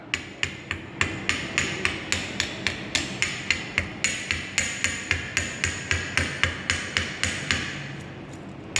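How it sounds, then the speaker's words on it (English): Rapid, steady metallic chipping hammer strikes, around two to three per second, sharp and close, removing spatter from a welded corner joint with no talking. "Take the chipping hammer,"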